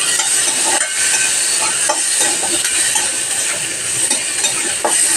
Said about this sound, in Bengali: আর এখানে আমরা পেঁয়াজটা ভেজে নিচ্ছি।